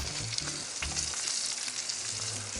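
A steak sears in butter and olive oil with thyme in a cast iron pan, giving a loud, steady sizzle with a few crackling pops and a low rumble underneath, with no one speaking.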